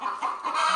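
A hen clucks loudly and continuously in a short burst of agitated calls, close by, with no talk over it.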